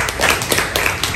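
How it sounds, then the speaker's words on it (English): Secondary school students in a Vietnamese ESL classroom clap for a classmate in brief, close, lively applause. "Clap for her."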